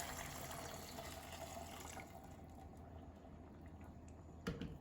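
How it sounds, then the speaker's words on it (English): Mushroom broth pours into a soup pot of minestrone with a faint, steady liquid rush and gentle splashing, easing off partway through, with a small clink near the end. "I'm gonna add my mushroom broth to this"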